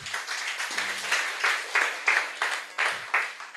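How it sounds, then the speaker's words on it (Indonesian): An audience at a motivational talk claps in a loose, regular rhythm, each clap burst clear and fairly close, continuing steadily for several seconds with faint murmuring underneath. "Kalau boleh tepuk tangan dong."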